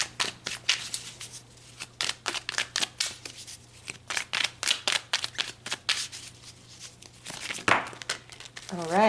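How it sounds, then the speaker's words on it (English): Heart and soul oracle cards being shuffled, with quick papery riffling and flicking that repeats in a busy, close rhythm, a low hum running underneath. "So let's pull some heart and soul cards."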